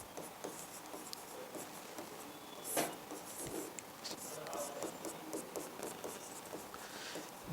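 A pen writes maths on a board during a Hindi lesson, soft scratchy strokes and taps at close range, steady and fairly faint, with brief rustles in between.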